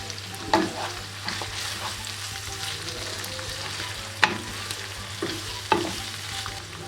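Meat seasoned with cinnamon frying in a pan for Kayseri yağlama, a steady sizzle under repeated spoon scrapes and knocks against the pan as it is stirred, with a low steady hum underneath.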